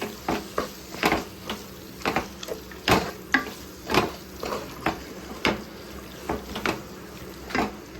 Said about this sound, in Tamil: இப்போ வந்து மசாலாவோட லைட்டாக ஒரு மிக்ஸ் கொடுத்துக்கலாம்.